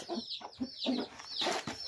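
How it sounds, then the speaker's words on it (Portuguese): Free-range hens in a new enclosure cluck close by in short, repeated bursts, several birds overlapping in an uneven rhythm. "Olha o Chico tem algumas galinhas caipira."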